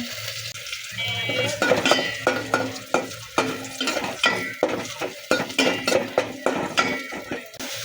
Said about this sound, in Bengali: সবগুলো একসাথে একটু নেড়ে চেড়ে মিশিয়ে দিয়ে দিলাম মশলাগুলো